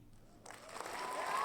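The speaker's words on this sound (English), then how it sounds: "Round of applause." Applause breaks out after a short quiet lead-in and quickly grows into steady, fairly close clapping from a small group on a podcast about wholesale for makers.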